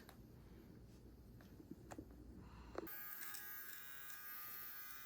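An electric beard trimmer switches on after a few seconds of quiet handling and buzzes steadily up close, a bright, even electric hum.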